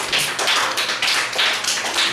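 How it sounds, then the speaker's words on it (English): A live audience applauds at an evening variety show, dense steady clapping filling the whole moment without a break, with no voices over it. "Give a round of applause, ladies and gentlemen."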